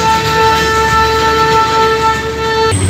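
The Darjeeling toy train climbing uphill, a loud steady rumble with sustained tonal horn-like drone throughout, cutting off near the end, heard close with no talk.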